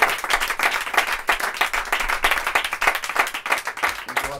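An audience applauding at a concert, dense steady clapping from a room full of people, close and fairly loud throughout.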